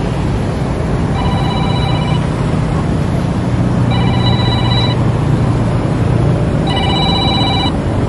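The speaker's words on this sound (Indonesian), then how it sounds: "ada telepon ini dari kawan bisnis" A telephone rings in three evenly spaced bursts of electronic trilling, each about a second long, over a steady background hum and rumble with no talking.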